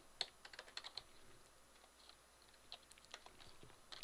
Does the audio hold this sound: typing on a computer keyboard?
yes